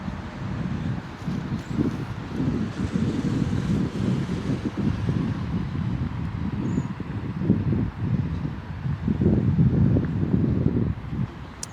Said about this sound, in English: it's windy. Yeah, it's windy.